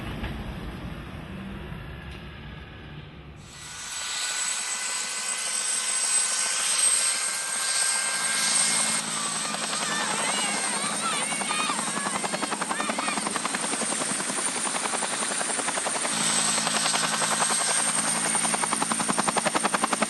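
A heavy-lift helicopter with one pilot, used as an aerial crane near high-rise buildings, starts faintly and then swells into a loud, steady close rotor and engine roar that continues without voices.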